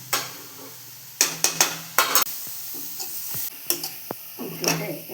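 Grated beetroot stirred in a pan over dried red chillies and salt, with sharp spoon scrapes and clatters in short bursts over a soft background sizzle.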